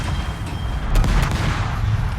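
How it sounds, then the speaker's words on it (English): Heavy gunfire from enemy ships in the World of Warships video game, with a deep booming salvo landing about a second in over a low rumbling background. "Someone is actually shooting at me."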